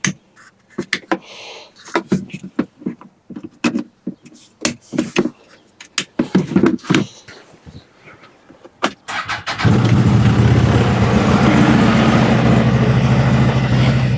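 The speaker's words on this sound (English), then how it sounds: "that exhaust is quieter than I actually thought. I thought it was going to be like super loud. You can definitely hear a rumble" A CFMOTO UForce 1000 XL side-by-side with an ECU tune and Hester Edition exhaust starts after several seconds of knocks and clatter, then settles into a loud, steady, close low exhaust rumble that holds to the end.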